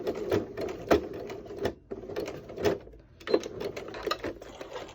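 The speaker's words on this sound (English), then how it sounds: "I'm going to back stitch." A sewing machine back stitches over the first few stitches of a seam on a fluffy hood, running in short bursts of rapid needle clatter with brief pauses between passes, close and alone.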